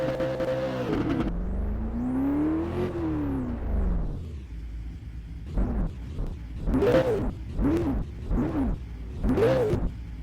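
Cars rush past one after another at a Hidden Valley motorsport social league round, engines rising and falling in pitch as they approach and recede, with several quick passes clustered toward the end.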